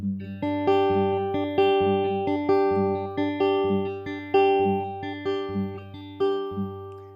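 A guitar fingerpicks a quick, repeating exercise pattern in G in a steady, even rhythm. The notes ring clearly with no talking.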